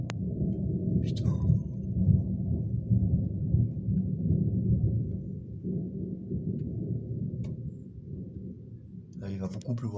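Thunder from a strong, highly electric storm in Calvados, France, rolling as a continuous deep rumble with faint rain, plus a few sharp crackles and a couple of brief bursts of people talking.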